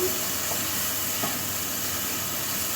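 Corn sizzles steadily in a hot pan with pink salt, a continuous close frying hiss with faint stirring clinks and no talk over it.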